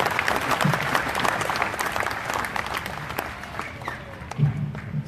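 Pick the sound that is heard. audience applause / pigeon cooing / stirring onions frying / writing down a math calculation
audience applause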